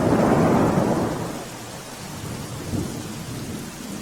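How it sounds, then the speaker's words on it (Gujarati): Thunder rumbles low and heavy over steady pouring rain in Kadi, Gujarat, with a loud opening roll fading into a continuous hiss of rainfall and a softer second rumble. "મેઘરાજા કડીમાં મન મૂકીને વરસ્યા છે"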